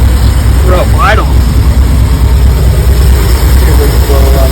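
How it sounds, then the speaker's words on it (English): A 1984 Ford E350 engine runs at a rough idle, a loud close low rumble that holds throughout, with brief tonal sounds riding over it near the start. "not idling, pretty rough idle."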